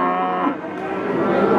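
A cow moos loudly and close by at a livestock sale in the rain, one drawn-out low bellow that fills the short moment, with faint background noise behind it.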